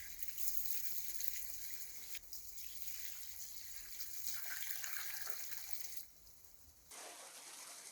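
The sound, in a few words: water filling a bucket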